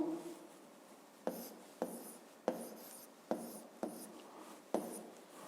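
Pen strokes on paper while notes are written during a physics lesson, six crisp scratching bursts at a regular pace, close and fairly quiet with no talk.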